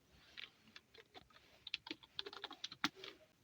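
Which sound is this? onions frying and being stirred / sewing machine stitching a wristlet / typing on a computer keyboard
typing on a computer keyboard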